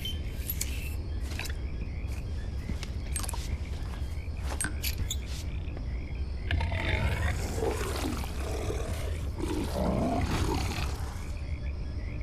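Deep guttural hippo roaring echoes through a horror video game over a constant low rumbling drone, with scattered sharp clicks and a louder, rough bellowing stretch in the latter half.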